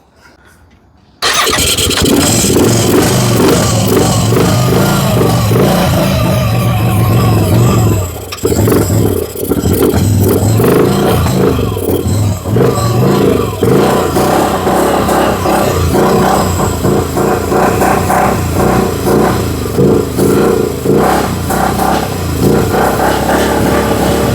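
A CF Moto Z Force 800 side-by-side engine, previously fire-damaged, cranks and catches after a quiet moment, then runs loud and close, revving up and down with a brief dip partway.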